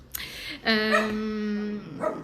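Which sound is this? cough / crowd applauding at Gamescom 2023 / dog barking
dog barking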